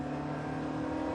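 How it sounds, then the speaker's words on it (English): A racing car engine in a video game drones steadily at moderate volume, held at an even pitch as if waiting out period turbo lag, with no voices over it. "There's a fair bit of period turbo lag,"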